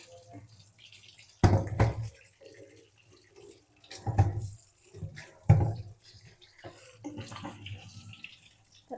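Large Indore potatoes are washed by hand in water for vada pav, with intermittent splashes and sloshing, fairly faint and close.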